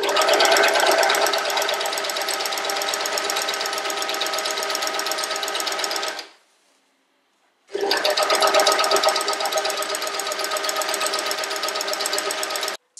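A sewing machine stitches the hem of a child's cotton dress, its rapid needle chatter running steadily and close for about six seconds, stopping briefly, then resuming at the same even pace.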